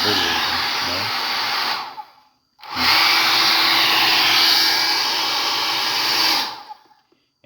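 A repaired hair dryer blows with a loud steady whine, switched off briefly and then running again for several seconds before cutting out, close to the microphone.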